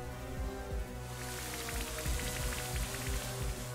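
The Rain Dance move in Pokémon Brilliant Diamond brings a soft, steady patter of game rain that swells after the first second and carries on evenly, with no talking.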